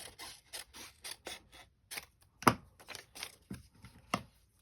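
Scissors snip repeatedly through paper covering a fall journal page, a string of short crisp cuts at a steady, slightly uneven pace, close up and quiet.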